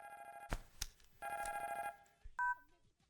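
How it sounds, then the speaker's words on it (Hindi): A telephone rings in repeated electronic bursts, with a few sharp knocks in between, fairly quiet and close. "फोन बज रहा है।"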